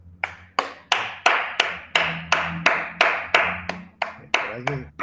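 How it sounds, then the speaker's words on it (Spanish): Hand clapping from an online audience after a talk, a single close set of claps in a steady rhythm of about a dozen sharp strikes, loud and isolated, with a faint voice near the end. "abran por favor sus micrófonos y demos un fuerte aplauso a Eduardo por esta magnífica charla"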